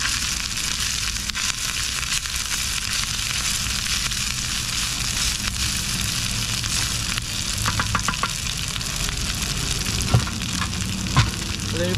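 Continuous loud sizzling of rice frying in a hot pan inside a car, with occasional clinks and scrapes of stirring, no voices.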